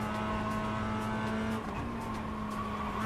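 Race cars in the iRacing video game: a continuous, loud engine drone with a steady hum that dips briefly midway, and no voices.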